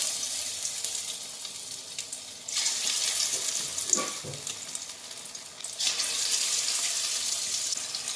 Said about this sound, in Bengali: দেখতেই পাচ্ছ তোমরা তেলটা গরম হয়ে গেছে এবার এখানে ম্যারিনেট করা চিকেনগুলোকে আমি একে একে একটা একটা করে ছেড়ে করে দেবো